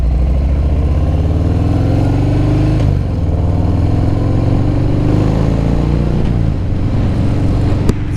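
A 2022 Harley-Davidson Fat Bob 114 fitted with a new Cobra El Diablo 4-inch exhaust idles with a deep, steady, loud V-twin rumble, close up and continuous with no talking.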